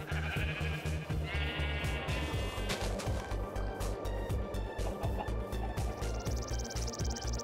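Minecraft farm animals calling loudly and continuously, a dense chorus of repeated bleating and lowing cries layered over one another, close and with no talk.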